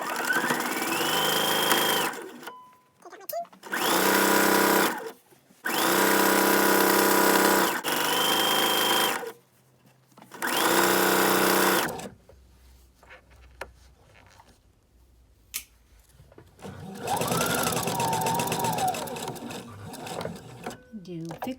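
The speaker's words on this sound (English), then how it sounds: "I'm going to sew all the way to the right so it's close to this as I can get" Sewing machine stitching a seam on a T-shirt tote bag, loud repeated whirring bursts separated by pauses, with a voice talking between and over the runs.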